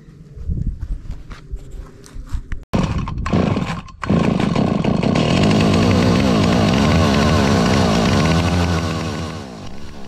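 A Stihl 028 Wood Boss chainsaw starts with rough sputters, then settles into a loud, steady close-up idle that never revs up, easing slightly toward the end.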